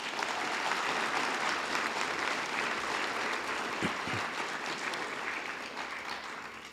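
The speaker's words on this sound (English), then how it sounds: "Let's give all of them a round of applause." Audience applause at a school district online academy graduation ceremony, a steady wash of many hands clapping that holds evenly throughout and tapers slightly at the end, heard from a distance in a large room.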